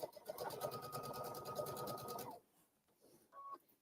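A sewing machine stitches a line across fabric for a stuffed piece, running in a fast, even mechanical rattle for about two seconds, then stopping, followed by a short faint whir.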